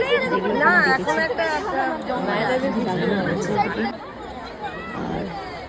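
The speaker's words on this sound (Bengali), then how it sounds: "লোক মানে গিজ গিজ গিজ গিজ করছে" Dense crowd chatter fills a packed zoo on a holiday outing, a steady close hubbub of many overlapping voices that stays loud throughout and eases slightly toward the end.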